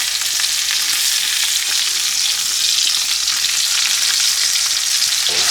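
A New York strip steak fries in a hot pan, giving a loud, steady, dense sizzle that runs unbroken throughout, with faint crackles and a small shift near the end.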